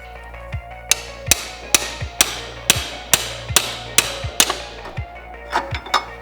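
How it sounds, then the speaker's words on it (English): A hammer striking a chisel to tap out a CV axle during clutch removal, about a dozen sharp metallic blows in a steady rhythm, close and loud, with no talking. "you might have to take a chisel on what you can get and a hammer and kind of gently tap it out this way"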